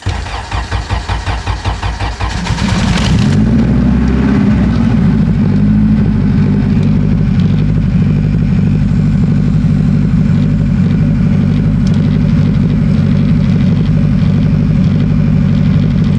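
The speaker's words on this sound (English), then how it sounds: "Car's running really lean right now." A car engine cranks over for about two seconds, then catches and settles into a loud, steady idle running lean, with the car out of gear and parking brake set.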